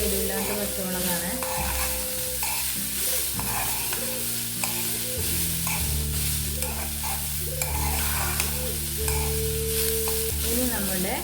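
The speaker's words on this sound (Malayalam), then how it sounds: "നമുക്ക് പച്ചമുളക് ഇട്ട് കൊടുക്കാം കേട്ടോ" Green chillies frying in a pan for a beetroot thoran, with a steady sizzle and repeated stirring scrapes throughout, close and continuous with no talking.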